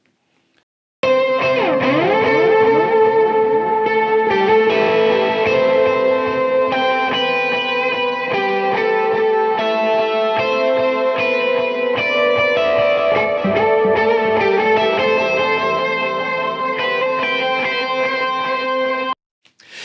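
A continuous distorted electric guitar riff, close and steady for almost twenty seconds, its tone shifting subtly partway through. No one speaks.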